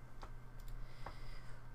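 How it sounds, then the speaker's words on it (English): Two soft, isolated keyboard key clicks at low level over a steady electrical hum, no voices. "And I'm typing."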